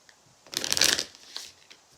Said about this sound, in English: Said a prayer for our cards before we started today. Just shuffling them